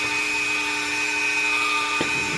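A cutting disc on a power tool grinds through a metal washer on a pink Mini, a steady high-pitched whine with a brief harsh bite near the end.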